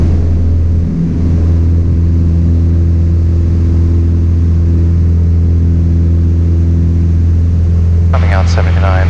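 A small airplane's engine roars at full power for takeoff, a loud, steady low drone with strong harmonic hum throughout, and a voice briefly speaks over it near the end.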